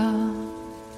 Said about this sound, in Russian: Кап-кап, лети с неба вода